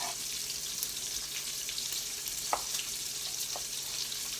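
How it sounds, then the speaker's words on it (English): Bacon sizzling in a frying pan about halfway cooked, with a steady, loud crackling hiss and a few sharper pops, heard close and without any talking. "So our bacon is about halfway done. You guys hear that?"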